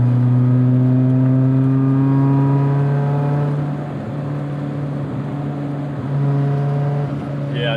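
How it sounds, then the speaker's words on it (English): A 1988 BMW M3 E30 with 230,000 miles drives along with a steady, loud engine drone that shifts pitch midway, while faint creaks and rattles from the aging car mix in under the engine. "I'm not sure if you can hear all the creaks and rattles."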